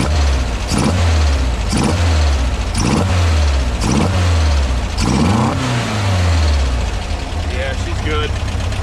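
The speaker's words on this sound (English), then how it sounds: "giving a little gas, rev it up a little bit" A 1976 Volkswagen Westfalia bus engine fitted with dual Weber 40 IDF carburetors is revved in about six short blips, each rising and falling over a loud, close idle.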